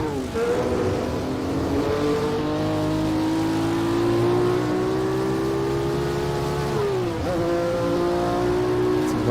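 Historic GT race car engine in an rFactor racing game mod, loud and sustained at high revs with a steady harmonic whine, dipping briefly on a gear change near the end before climbing again.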